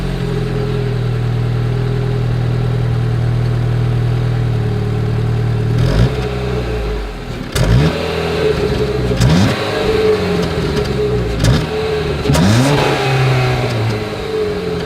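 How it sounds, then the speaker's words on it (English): A 2023 Jeep Cherokee SUV exhaust idles steadily for about six seconds, then gets a series of sharp throttle blips and revs that rise and fall repeatedly, loud and close with no talking. "As always, here is that exhaust clip."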